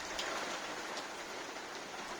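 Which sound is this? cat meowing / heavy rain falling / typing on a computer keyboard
heavy rain falling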